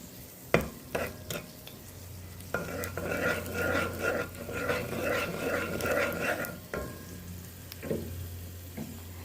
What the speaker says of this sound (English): So I always like to give it a stir and keep an eye on it.